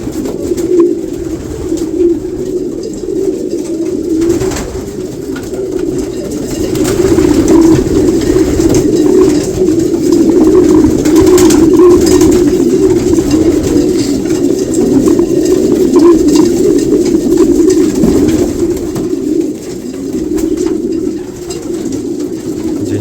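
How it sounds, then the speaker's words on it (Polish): Continuous low cooing from many pigeons, mostly yearlings, at close range, overlapping throaty calls that swell louder midway and carry on without pause. "większość rocznych gołębi"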